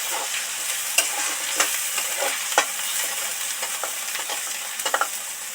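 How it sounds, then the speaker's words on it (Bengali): Turmeric and chili powder fry in a pan while being stirred: a steady close hiss of sizzling oil, punctuated by sharp scrapes and knocks from the spoon at irregular intervals. "এক চামচ লঙ্কা গুঁড়ো অ্যাড করলাম এবার ধরে ধরে ভালো করে ভাজতে থাকবো"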